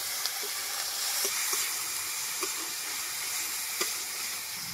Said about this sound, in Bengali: এবার ভালো করে মশলাগুলো কষিয়ে নেবো।